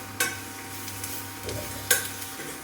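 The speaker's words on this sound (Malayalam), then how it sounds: "മല്ലിപ്പൊടി മസാലയൊക്കെ കൂടെ നന്നായിട്ടൊന്ന് മിക്സ് ചെയ്തെടുക്കാം." Coriander powder masala for a mushroom curry being stirred in a pan, with two sharp spoon scrapes against the metal over a soft, low sizzle, close and without speech.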